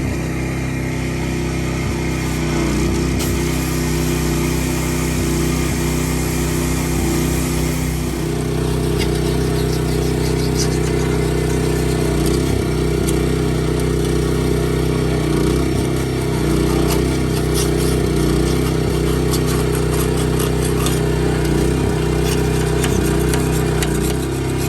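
Pressure washer engine running steadily at a shop while cleaning a Kenworth truck frame, a loud continuous mechanical drone with a slight hiss and small fluctuations, with no talking.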